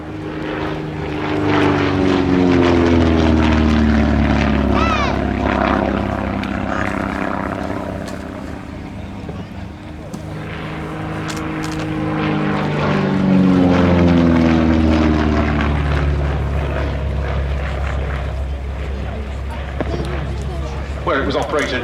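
A fully aerobatic propeller aircraft flies a display at an airshow, its engine droning loudly with a shifting pitch as it climbs and swoops, while a commentator speaks over the sound throughout.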